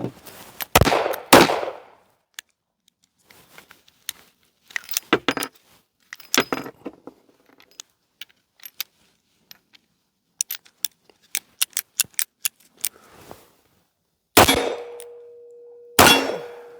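Single-action revolver firing self-defense ammunition: sharp, loud gunshots separated by a long stretch of small metallic clicks and clinks while cartridges are reloaded, then more shots with a ringing tone.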